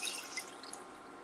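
Almond milk is poured into a measuring cup, a soft, brief trickling and splashing of liquid heard alone, fairly close and quiet.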